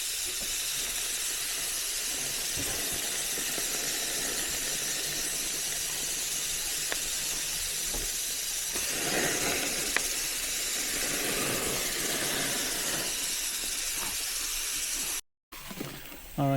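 Barbecue skewers sizzling on a grill at a lakeside cabin campground in Ontario, a steady soft hiss with occasional crackles and faint squeals, moderately quiet and continuous, ending in a brief dropout.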